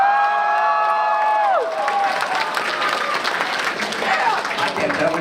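A convention crowd at Otakon 2009 cheers and applauds loudly after a held sung or shouted tone fades, with whoops and scattered shouting over dense clapping.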